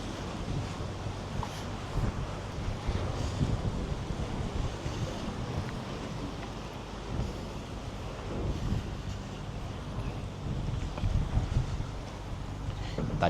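Steady roar of ocean waves and strong wind buffeting the microphone aboard a boat during the west monsoon storm season, continuous and loud throughout, with faint low engine rumble underneath.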